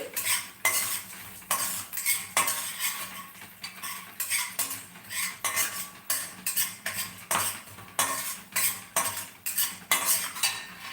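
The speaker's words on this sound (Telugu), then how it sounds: "బాగా పోపు వేయించేసి" Dried red chillies and asafoetida frying in oil for a tempering, stirred steadily in a pan, giving rhythmic, close scraping strokes of a spoon against metal over a faint sizzle, with no talking.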